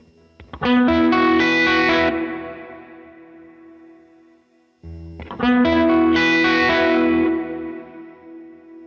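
Electric guitar played through a multi-reverb pedal with a modulated reverb setting, two strummed chords each ringing out in a lush, shimmering, slightly distorted wash that slowly decays, played alone without talk.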